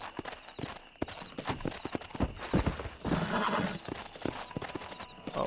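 Rapid hoofbeats of a galloping horse in the video game Red Dead Redemption, with a loud whinny partway through, close and clear, a few thuds and clicks scattered around it.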